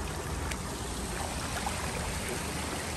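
Water runs continuously over a small waterfall into an otter pond, a steady close rushing and splashing wash with no talk.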